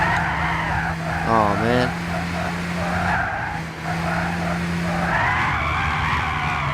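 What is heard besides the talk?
tires skidding while drifting a car in Gran Turismo 6 video game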